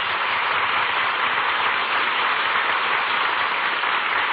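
Studio audience on an old-time radio comedy broadcast applauds the orchestra and its maestro, a steady wash of clapping with a muffled, band-limited vintage broadcast tone and no talk.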